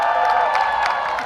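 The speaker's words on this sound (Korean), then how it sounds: "큰 박수 부탁드립니다, 여러분." A large outdoor crowd at a presidential election campaign rally in Yeouido, Seoul, claps and cheers continuously, a dense steady roar of applause.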